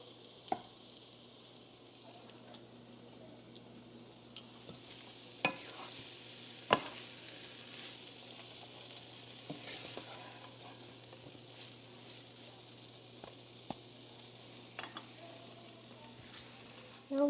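Shrimp cooking in a pan for a home-cooked meal, with a faint steady sizzle running throughout and scattered sharp clicks and scrapes of stirring. No one talks.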